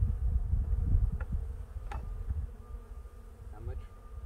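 Honeybees buzz close by during a beehive inspection, a steady low hum with individual bees droning past, plus faint handling noises and no clear talk.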